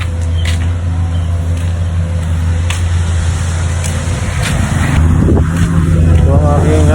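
A trailer truck idles at the roadside with a loud, steady low diesel rumble, its engine note swelling slightly near the end, with passing traffic noise around it.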